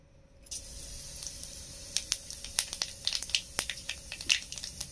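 Bay leaves, nigella and cumin seeds hit a generous pool of hot oil in a kadai, bursting into a sudden sizzle followed by scattered sharp crackles and pops, close and fairly loud.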